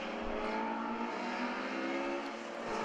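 Alfa Romeo championship race cars at Silverstone braking into Vale and cornering through Club Corner, a steady engine drone with a sustained tonal whine held across the moment, fairly loud and continuous.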